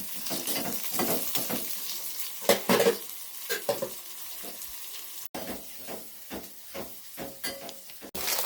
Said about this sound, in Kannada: ಸ್ವಲ್ಪ ಎಣ್ಣೆ ಮತ್ತು ಈರುಳ್ಳಿ ಎಕ್ಸೆಟ್ರಾ ಕೊಯ್ಕೊಂಡಿರೋದೆಲ್ಲ ಒಗ್ಗರಣೆ ಹಾಕ್ತಾ ಇದ್ದಾರೆ